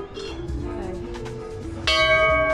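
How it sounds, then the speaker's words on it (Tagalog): A church bell rings out once with a bright, sustained metallic tone near the end, loud and close after quieter outdoor sounds with people talking. "check natin kung tutunog pang bell"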